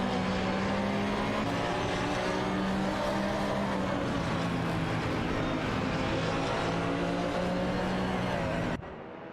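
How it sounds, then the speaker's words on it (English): Lamborghini Gallardo GT3 race cars roaring around the track in an Assetto Corsa racing game, a loud continuous engine drone with shifting pitch, cutting off near the end. "Bobardo and Huskies command Lamborghini Gallardo GT3s in this exciting battle on the track"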